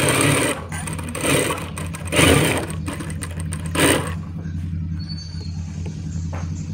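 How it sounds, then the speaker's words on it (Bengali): An electric sewing machine stitches fabric for a box-neck nightgown in quick whirring bursts, running for about four seconds before stopping and leaving a quiet hum. "এখন যে এক্সট্রা কাপড়টা আছে ওইটা এর উপর বিছিয়ে সেলাই করা লাগবে।"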